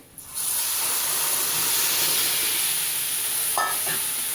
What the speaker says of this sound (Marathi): आता यामध्ये मी अर्धा लिटर दूध टाकते